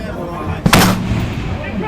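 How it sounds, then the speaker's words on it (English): A single sharp gas gun rifle shot fired from a low kneeling position at a 400 yard diamond target on an outdoor range, loud and close, followed by a ringing decay and faint background noise. "I hit the first shot."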